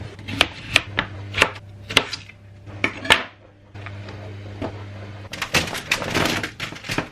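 Potatoes for fries being chopped with a knife on a cutting board, steady rhythmic strokes ringing out close by, then a faster, busier clatter near the end.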